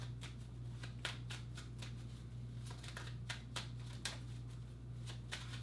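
Tarot cards shuffled in repeated quick riffling bursts over a steady low hum, fairly faint and close, with no talking.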